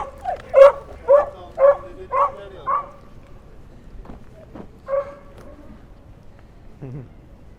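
Dogs bark on a New York City street in Brooklyn. Five loud, evenly spaced barks come up close, followed by quieter scattered yips and street sounds.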